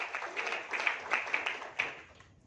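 A church congregation at a Sunday worship service applauds in a brief, moderately quiet burst of clapping that swells and then fades toward the end, with a few louder individual claps standing out.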